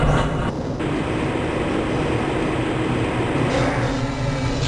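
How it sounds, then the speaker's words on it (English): A Black Mesa transit train from Half-Life: Blue Shift rolls along its track with a loud, continuous rumble and hum, steady throughout with slight shifts in tone. "This train is inbound from the Area 8 topside dormitories to the Central Transit Hub in Area 9."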